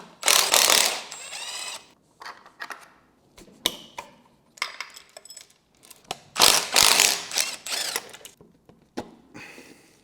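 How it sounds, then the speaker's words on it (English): A ratchet clicks in rapid bursts while unbolting the oil pump from a BMW V12 engine, loud and close, with short pauses between the runs of ratcheting. "Now you're going to remove the oil pump."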